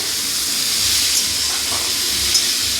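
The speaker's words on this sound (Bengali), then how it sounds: "একদম লো গ্যাসে এগুলোকে ভাজবো।" Drumstick (sajna) pieces frying with turmeric in a pan on a low gas flame, a steady broad sizzling hiss, close and even throughout with no talk.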